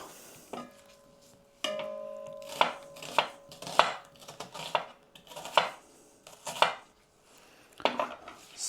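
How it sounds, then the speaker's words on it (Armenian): An onion is chopped on a board for a Caucasian oxtail khashlama, about a dozen sharp, uneven knife strikes ringing out close and clear against a quiet background, no voices. "Աղը ավելացնելուց հետո մեզ է հարկավոր է, որ սոխը կտրատենք։"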